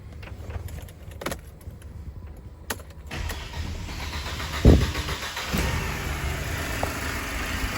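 A Mercedes C250 engine after a timing job, heard close: keys jangle, the starter cranks with a brief delay, then the engine catches with a rev and settles into a steady idle.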